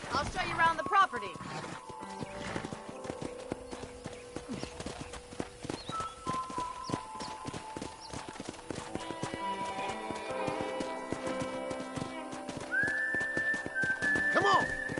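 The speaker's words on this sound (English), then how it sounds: "let's see if you can still ride a horse." Horse hooves clip-clop steadily at a riding pace in the Red Dead Redemption video game, with a whinny, voices and a tonal game score running underneath.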